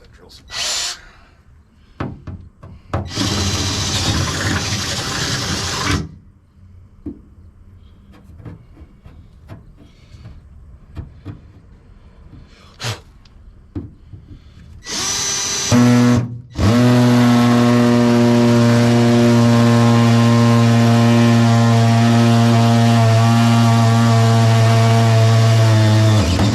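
A power drill bores through a boat seat pedestal during installation, with short bursts and then a long, steady, loud whining run at the end, separated by quieter handling noises.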